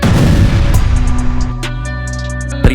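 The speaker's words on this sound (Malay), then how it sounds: "Bunyi tembakan memecah lantunan." A single loud, booming gunshot from a Steyr IWS-2000 sniper rifle, followed by a long, fading rumbling echo and then a second sharp report near the end, with no talk.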